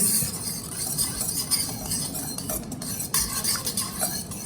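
Spoon stirring a sweet curd mixture with almonds in a bowl for Bengali bhapa doi, a steady close scraping and clinking of utensil against the bowl that runs continuously without talk.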